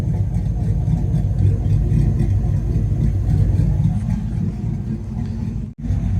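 A Chevrolet Silverado's 5.3 V8 with a ghost cam tune idles close by with a lumpy, loping rhythm, running steadily before cutting out abruptly near the end.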